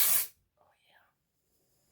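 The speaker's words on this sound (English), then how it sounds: "let's see what the spray looks like" A short, sharp hiss from a beauty product spray bottle opens the moment, then fades into near silence with faint soft sounds after.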